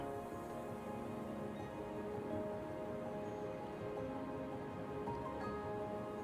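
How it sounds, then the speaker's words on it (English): Steady rain in the video game Terra Nil patters continuously, a dense even hiss with scattered drops, with no voices over it. "And cue the rain."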